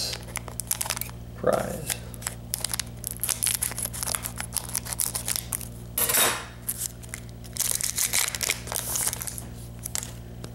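A sealed Pokemon card booster pack torn open and its cards handled, with crinkling foil, a sharp rip and shuffling under a voice talking intermittently nearby.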